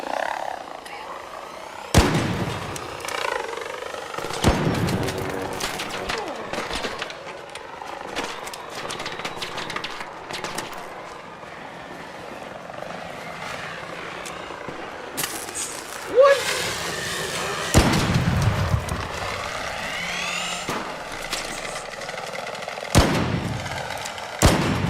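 Gunfire in the shooter game Arc Raiders, a string of sharp, loud shots in irregular bursts, some isolated and some close together, with game ambience and effects running between them.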